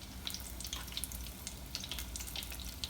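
Haitian potato balls (krokèt) frying in hot oil give off a steady bright crackle and spatter, close and continuous, with no talking.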